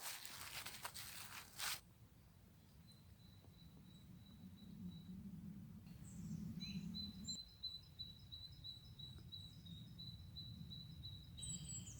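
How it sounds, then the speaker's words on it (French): Birds singing outdoors beside a path to quarries on a mild, spring-like day, thin high chirping trills repeating in phrases, with a brief rustle near the start and a low background rumble. "les autres oiseaux se donnent à cœur joie pour chanter"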